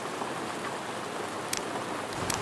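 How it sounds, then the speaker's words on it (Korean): Night-time rain in the video game Road to Vostok, a steady dense hiss of rainfall with no pauses and a few faint droplet ticks, continuous and even throughout. "밤에 비 오는 날."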